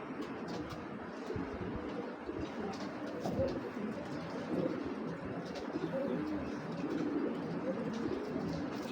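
Giribaj racing pigeons coo repeatedly and softly, close by over a continuous bed of loft noise, with several birds overlapping and no clear pauses.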